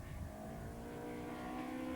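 Caterham Vauxhall Challenge race cars from 1994 driving through the S's and down toward the Melbourne hairpin, a steady blend of engines droning and revving at a distance, loud and continuous with no voices.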